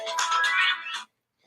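A mobile phone ringtone for an incoming call plays a short bright melodic phrase for about a second, close and clear, then cuts off into silence with only a faint trace at the end.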